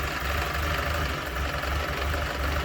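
A prewar Austin A7 car engine idling in a garden, a steady close rumble with an even low throb and no breaks, loud and alone.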